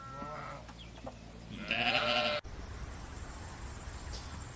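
A sheep bleats once, loud and wavering, over steady outdoor background noise, with fainter rustling and hiss before and after the call.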